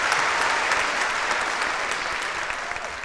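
An audience at a televised children's singing contest gives loud, dense applause that fills the whole stretch, with scattered cheers in the crowd.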